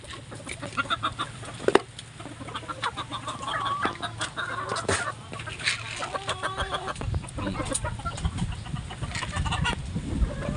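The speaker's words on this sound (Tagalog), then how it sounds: "patakawin na natin yung ating mga manok. Dahil gutom na sila" Hungry chickens cluck steadily at a farm feeding spot as they are fed, a busy flock chattering continuously at moderate distance, with a low steady hum and occasional sharp knocks underneath.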